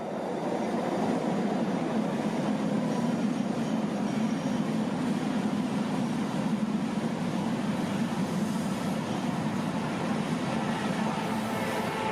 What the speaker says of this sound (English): Westbound train should be arriving right now.